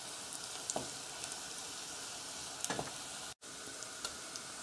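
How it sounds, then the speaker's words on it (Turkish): Dried peppers sizzling as they roast in oil for a spicy bulgur and tomato soup, a faint, even crackle with scattered light pops and a brief dropout midway, no voices. "Ben kuru biberleri de şöyle bir yağda çeviriyorum."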